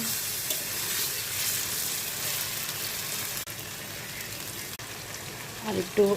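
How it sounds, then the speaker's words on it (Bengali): Spice-coated chicken livers frying in a pan, a steady, bright sizzle like light rain that holds evenly, interrupted by a couple of sharp clicks and a brief clatter near the end. "মশলা মাখানো হয়ে গেছে, এখন ভেজে নেব। ভালো করে লাল করে ভেজে নেব।"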